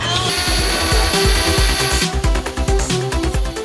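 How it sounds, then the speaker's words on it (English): A power tool bolts together the gearbox of a robot winch, whirring loudly up close. It runs steadily at first, then breaks into rapid stuttering bursts as the fastener tightens. "We are bolting together the gearbox so then we can mount it to the base"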